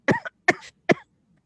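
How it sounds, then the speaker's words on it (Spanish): A woman coughs in a short fit of three sharp, close coughs spaced evenly apart, followed by silence. "Me dio un ataque de tos."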